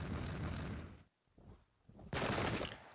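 Booming cannon volleys from the Renaissance-era game Pike and Shot, in two loud bursts split by a brief, quieter gap of rumbling.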